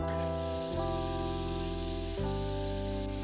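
Onions sizzling and frying in oil in a pan as they are stirred, a steady close crackle with a couple of sudden shifts where the stirring disturbs the pan.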